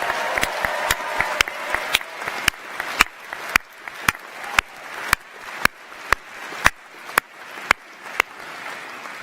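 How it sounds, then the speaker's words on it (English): Audience at a university graduation ceremony in a hall applauds the venue staff, a steady round of clapping with sharp individual claps standing out, fairly close and sustained throughout. "Can you give them a massive round of applause?"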